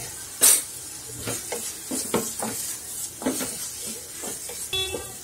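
Turmeric and spices being stirred into mashed brinjal in a pan for baingan bharta, with scraping spoon strokes at an uneven rhythm over a light sizzle, close and moderately loud, with no talk.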